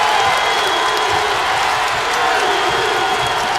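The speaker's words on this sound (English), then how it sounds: "it's not a huge crowd by any stretch, but finally they're making some noise" A basketball crowd at Humphrey Coliseum cheers and applauds, a loud, steady wash of clapping and shouting voices that fills the arena without a break.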